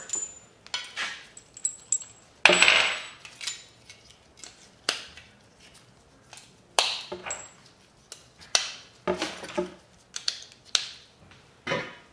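Metal extractor tools clink and clatter as they're placed into a case, a series of sharp scattered clicks and taps at close range with brief pauses.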